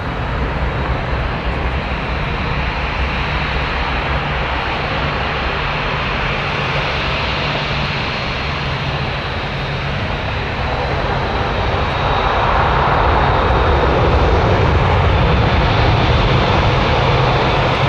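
Boeing 787 Dreamliner jet at Toronto Pearson airport, a broad continuous engine roar heard from the field that swells louder toward the end, with radio-like chatter faintly underneath.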